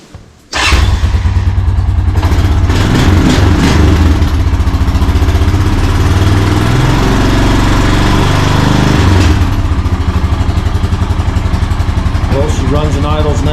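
Honda Foreman quad engine starts up and runs steadily, a loud close clattering idle that holds for over twelve seconds with a slight rise and fall in revs and faint voices in the background.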